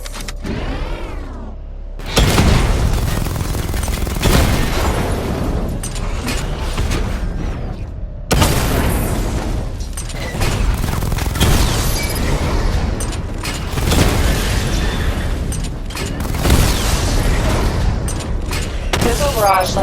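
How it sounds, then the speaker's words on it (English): Missile barrage in Batman Arkham Knight: repeated loud volleys of launches and explosions come in dense bursts with mechanical whirring between them, while a voice talks over the action. "Charge up missile barrage to level 2 and destroy 4 active targets to complete diagnostic test"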